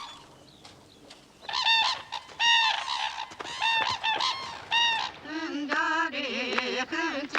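Several loud, harmonic honking calls of red-crowned cranes ring out from a Hokkaido marsh, some overlapping in rapid bursts, first rising over quiet background and then continuing in a steady run of calls.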